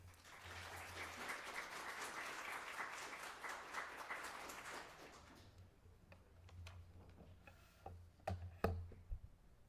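Audience at a cyber risk talk applauding to welcome a speaker: steady, moderately loud clapping for about five seconds, then fading to scattered claps, shuffling and a few knocks in the room.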